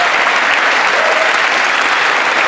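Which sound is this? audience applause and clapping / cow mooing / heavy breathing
audience applause and clapping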